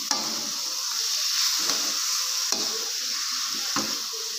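Food frying in a pan over moderate heat gives a steady hiss, and a stirring utensil drags through it in repeated scraping strokes about once a second.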